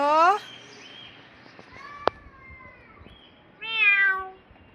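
A child imitates a cat's meow in bursts at the start and end, high rising voiced calls, with a sharp click in between and quiet room noise throughout.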